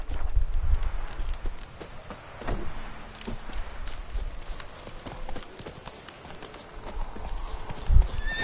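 Hooves of the horse Roach clop along in the video game Witcher 3, in a continuous rhythmic gallop, moderately close, with occasional louder thuds and faint game ambience.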